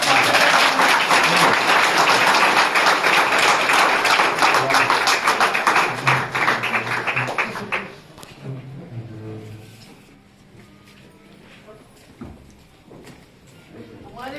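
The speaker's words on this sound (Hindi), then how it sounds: "जोरदार तालियों के साथ स्वागत किया जाए माथुर साहब का।" Loud, dense applause from a press club audience in Indore greeting a farmers' leader, strong for about eight seconds, then fading to scattered claps and room noise.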